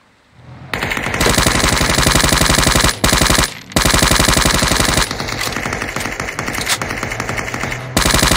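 Rapid automatic gunfire in a video game, loud, close bursts of machine-gun fire that keep going with two brief gaps and no voices.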